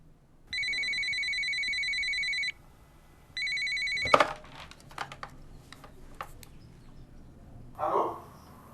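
An old-style telephone bell rings loud and close in two long bursts, followed by clattering handling sounds and a brief voice.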